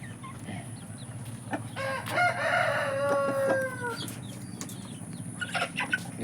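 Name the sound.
Aseel rooster crowing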